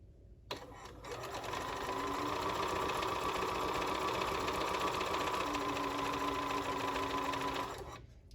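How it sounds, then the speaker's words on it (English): A sewing machine runs steadily while stitching down the side of a quilt block, a close, continuous mechanical whir that starts after half a second and stops just before the end. "we still need to sew down our other side here"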